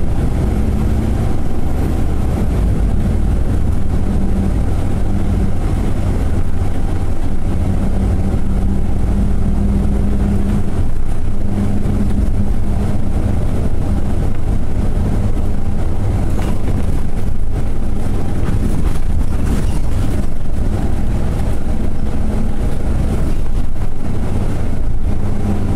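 A TransBunbury route 845 bus runs between Australind and Bunbury, its engine giving a constant, loud, close rumble from inside the cabin with road noise and faint rattles throughout and no talking.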